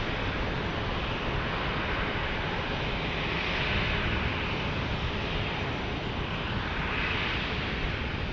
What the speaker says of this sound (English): As we've got a 737, looks like a MAX.